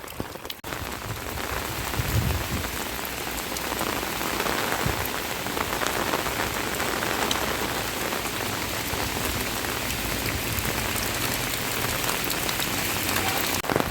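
Heavy monsoon rain in a Konkan village pours down steadily, a dense continuous hiss of drops hitting surfaces with no voices, constant and close for the whole stretch.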